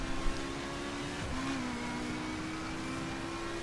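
BMW M4 with a three-litre turbocharged six-cylinder engine in The Crew racing game, a faint steady engine drone with a slight pitch dip midway, heard alone.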